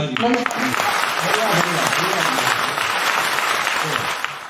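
Audience clapping at a poetry recital (kavi sammelan) in Bhopal, a steady wash of many hands sustained throughout, with a voice speaking over it near the start.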